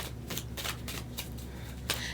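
A deck of tarot cards is shuffled at close range in a string of quick, soft riffling bursts at a quiet level.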